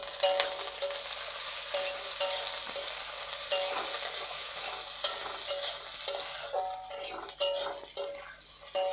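Green beans fry in oil for puffed rice pilaf with a constant soft sizzle, and a spatula scrapes and taps the pan again and again at close range.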